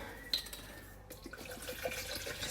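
Water pours into a NutriBullet blender cup, a short steady splashing stream that starts with a brief clink and runs on, close and alone.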